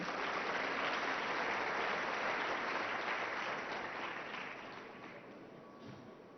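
An audience applauds to welcome Egypt's Prime Minister Dr. Mustafa Madbouly at a formal event, a dense, steady clapping that holds strong and then gradually fades toward the end.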